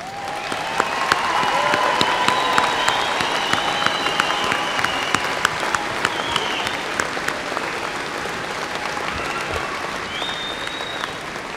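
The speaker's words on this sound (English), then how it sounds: "have all of today's graduates stand for one final round of applause" Sustained applause from a large audience at a university spring commencement as the graduates stand, steady clapping with a few sharp claps standing out for over ten seconds.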